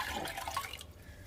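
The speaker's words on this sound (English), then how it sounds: "I'm going to add 1 cup of chicken broth" Chicken broth made from bouillon powder and warm water is poured into a measuring cup, a close gurgling splash that tapers off near the end, with no speech.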